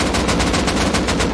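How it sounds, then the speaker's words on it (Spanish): Gunfire in the Rust video game, a rapid automatic burst of shots firing in a steady, evenly spaced rhythm, loud and close, with no talk over it. "Vamos, le disparo."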